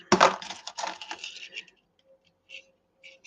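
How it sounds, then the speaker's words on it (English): Trimmed .223 brass rifle shell cases being deburred, a close run of bright metallic scraping and clinking for over a second, then quieter scattered ticks and light metal taps. "So all this has been trimmed, and now we're doing the deburring part."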